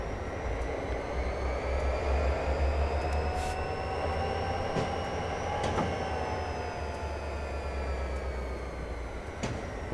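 An EMD SD40-2 diesel locomotive in the Train Simulator 2014 game runs with a steady low engine drone and a rising whine, joined by faint rail clicks and squeals, alone and without talk.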